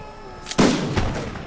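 A musket volley bursts out in the Imperial Splendour battle game, a sharp loud crack followed by a rolling echo of scattered further shots.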